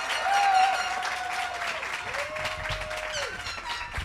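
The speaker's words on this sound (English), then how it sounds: "Can we give our Vals and Sals a round of applause?" Graduation ceremony crowd at a high school applauding speakers, sustained dense clapping filling a large venue, with a horn tone sounding over it.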